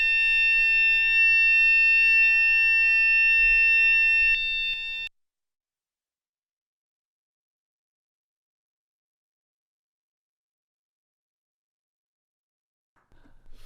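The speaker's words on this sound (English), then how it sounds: "that was the fire alarm" A building fire alarm sounds loudly as a steady high-pitched electronic tone with several harmonics, lasting about five seconds over low rumble and then cutting off into silence; faint noise returns briefly at the very end.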